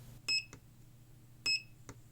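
Two short electronic beeps from a one-shot pulse circuit built around an IC salvaged from an old CRT monitor, each a bright, brief tone burst about a second apart, alone with a faint hum underneath.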